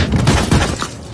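Rapid gunfire in a video game, a burst of loud, dense shots packed together with no clear gaps between them.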